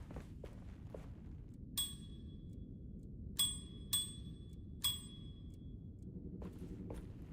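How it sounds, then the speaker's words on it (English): A counter bell in Alone in the Dark is struck four times, each a bright metallic ding ringing out briefly over faint footsteps and room noise. "I'm dinging the bell for no reason"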